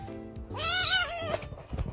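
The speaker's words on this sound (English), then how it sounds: "But I just found a really funny cat." A cat gives one drawn-out, wavering meow, loud and close, with faint background noise before and after.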